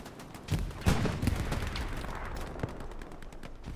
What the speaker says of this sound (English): Another rocket comes in.